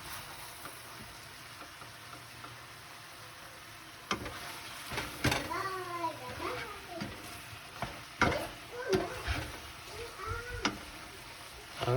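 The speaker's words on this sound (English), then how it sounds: "And just mix it up real good." A stir fry sizzles in a pan under steady frying hiss, joined after a few seconds by repeated scraping and stirring strokes with clattering utensil hits, fairly close and moderately loud.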